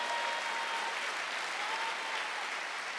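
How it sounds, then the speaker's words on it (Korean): Steady applause from a congregation at a Korean Wednesday church service, dense and continuous throughout without pause, with no talk over it. "여호와께서 나의 출입을 지금부터 영혼까지 지키실 걸 믿는 사람만 박수."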